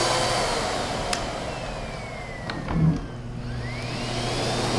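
A Miele U1 upright vacuum cleaner runs steadily with its suction on, a continuous near whirring drone with a faint rising whine, heard alone without talking.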